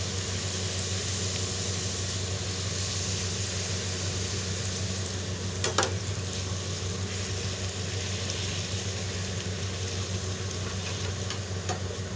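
Nan puri deep-frying in hot oil gives a constant, even bubbling hiss throughout, with a brief sharper crackle partway through and no talking.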